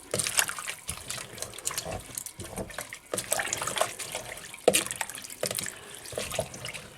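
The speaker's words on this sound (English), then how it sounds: "just wash everything real good with your hand using an agitation motion" Salad vegetables for a Greek salad being washed by hand in a bowl of water, with repeated sloshing, swishing and dripping splashes from an agitating motion, close and uneven.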